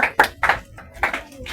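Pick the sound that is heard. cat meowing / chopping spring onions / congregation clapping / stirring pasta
congregation clapping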